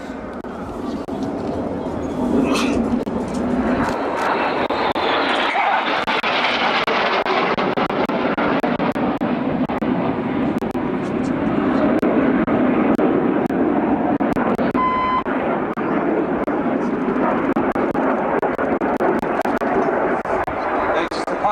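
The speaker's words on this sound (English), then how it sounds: "The key to the revolution is getting all 7 jets doing it at exactly the same time before they reform that battle formation in the right-hand turn" Red Arrows jet aircraft flying in formation at an airshow, performing the carousel manoeuvre: a loud, continuous broadband engine roar that persists steadily throughout, with a rising whine early on and voices faintly under it.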